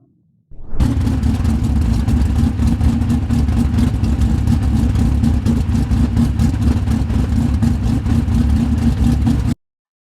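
A winged sprint car in iRacing fires up after a brief silence, then settles into a loud, steady, throbbing engine drone that holds for about nine seconds before cutting off abruptly.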